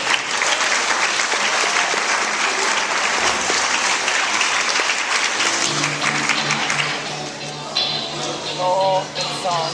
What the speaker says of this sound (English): Come on please, give them a round of applause.